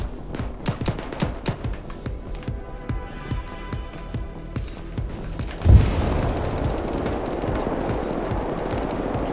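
Rapid rifle and machine-gun fire crackles through an ArmA 3 firefight. A heavy boom lands midway and leaves a sustained rumbling wash of noise as the shooting carries on.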